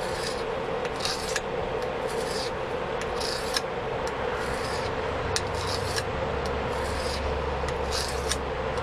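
A knife blade scraped steadily against half a broken whetstone, a continuous gritty rasp with rhythmic stroke bursts repeating close up, with no speech.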